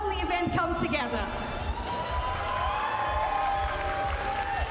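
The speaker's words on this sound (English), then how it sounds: "let's give one final round of applause now for the lovely staff and crew" Crowd applause mixed with cheering and chatter at a Pokémon UNITE esports championship, a dense steady wash of clapping under voices and some music-like tones throughout.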